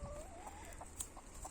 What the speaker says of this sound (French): Là, je suis accompagné de mes 3 poules